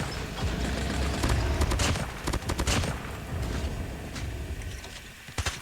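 PDW-57 gunfire in a mobile shooter game, rapid bursts of clattering shots running nearly continuously at mid volume, with short gaps between some bursts.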